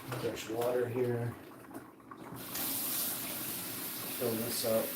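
Tap water pours in a steady rushing stream filling a container, starting partway through and continuing to the end, with a person talking before and over it.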